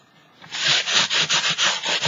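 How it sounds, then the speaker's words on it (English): Sandpaper rubbed over a layered painted surface, making a loud, close, rhythmic scratchy rasp of about six back-and-forth strokes after a brief quiet start. "sandpaper over"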